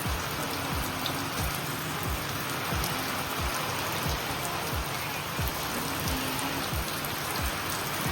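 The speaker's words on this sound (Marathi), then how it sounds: "मित्रांनो लय पाऊस येतोय बघा" Heavy rain pours down in a steady, dense hiss with many drops drumming close by on a hard surface, continuous and loud throughout, with no voices.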